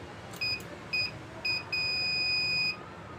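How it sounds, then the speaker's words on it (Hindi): A high electronic buzzer on a 24-volt UPS board sounds in three short beeps, then holds one longer continuous tone for about a second over faint background noise. "मैंने इसको करंट दे दिया बज़र की। वैसे अब आपको आवाज़ आ गई होगी।"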